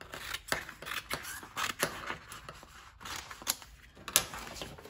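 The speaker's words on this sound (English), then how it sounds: "I'm going to grab some scissors" Scissors cut around a printed image for a t-shirt, giving quiet, irregular snips and crisp blade clicks in a steady working rhythm with no talking.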